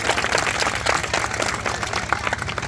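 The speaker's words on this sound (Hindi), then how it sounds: "तालियों से स्वागत करें।" Applause from a village gathering welcoming a group leader coming forward to collect a prize, a steady dense patter of many hands clapping close by, with no voices over it.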